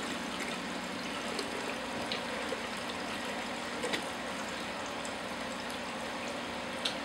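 Water pours steadily into a Herbie aquarium overflow box, a continuous close trickling and splashing flow with faint bubbling and no talk.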